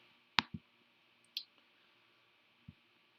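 A computer mouse clicks in a few sharp, isolated taps, two close together, then one more and a last one after a pause, quiet and close with no talking.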